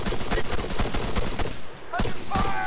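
Dense, rapid gunfire in the military video game ArmA 3, with bursts of automatic shots crackling almost continuously and loudly, broken briefly by a short pause and brief radio-style voice calls.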